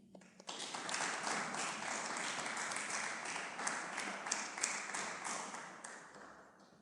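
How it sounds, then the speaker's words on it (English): Audience applause after a poetry reading at an International Women's Day event: many hands clap steadily for about six seconds, fairly faint and distant, then fade out. "Let us give this phenomenal woman another round of applause."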